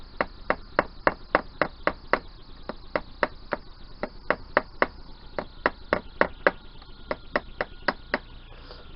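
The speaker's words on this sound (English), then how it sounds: "I just want to hit it square there with a punch, flat punch" A flat punch strikes a part of a 1988 Yamaha DT125R engine during disassembly, a steady run of sharp, evenly spaced metallic taps, close and fairly quick, continuing without pause.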